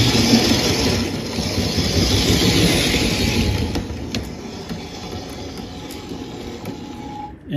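Model 0-8-0 steam locomotive running along its track, a close, steady whirring and rattling mechanical drone with faint clicking that gradually eases and quietens, heard alone without speech.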